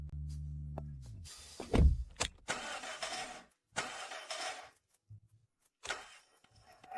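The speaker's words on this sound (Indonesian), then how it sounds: "Sepertinya, mobilnya mogok." A car that has broken down, its engine cranking and sputtering in short uneven bursts with thunks and pauses between attempts, heard close and without talk.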